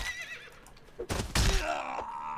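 A horse neighs loudly in the Mount & Blade Warband game with the Prophesy of Pendor mod, a rising whinny that swells after a burst of clattering noise, close and alone.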